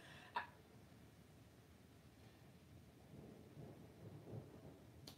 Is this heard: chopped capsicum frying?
no